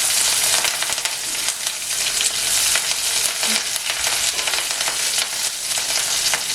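Red chillies frying in a hot pan with oil for a chicken pepper dry, a steady loud sizzle with light stirring scrapes, close up and continuous with no talk.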